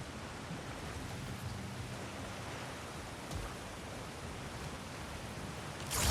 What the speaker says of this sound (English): Sounds like you got the water moving along